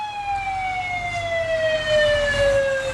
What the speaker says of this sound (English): we hear some noise coming from the North Side Volunteer Fire Department truck